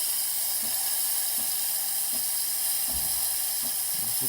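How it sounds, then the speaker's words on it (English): A Saeco espresso machine builds up pressure with a steady, loud steam hiss that runs throughout, with faint low knocks underneath. "The machine is building up pressure."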